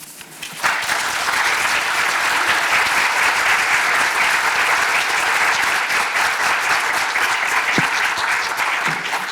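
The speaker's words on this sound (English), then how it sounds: "Let's give her another round of applause." Sustained, loud audience applause filling a hall at a Rackham Graduate School doctoral candidates ceremony, starting abruptly and holding steady for several seconds with no talk over it.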